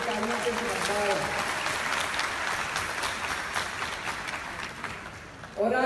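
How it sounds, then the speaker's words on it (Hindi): Audience applause for children at a state teachers award ceremony in Thyagraj Stadium, Delhi: dense, continuous clapping from a large crowd, fading slightly before a voice cuts in at the end. "जोरदार तालियां बच्चों के लिए दोबारा बजा दीजिए।"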